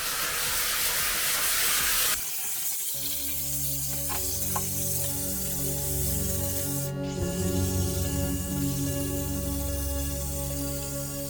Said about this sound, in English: I think the steamer is finally ready to go, so let's get cracking with cleaning this toilet.